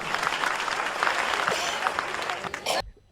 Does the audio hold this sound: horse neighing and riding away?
no